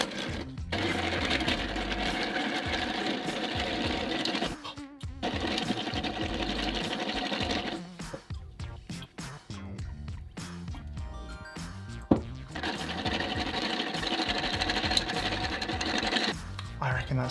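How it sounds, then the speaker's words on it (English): A cocktail being stirred at home, a steady scraping, rattling churn that runs almost continuously, dropping out briefly around the middle before resuming just as loud. "And stir it some more."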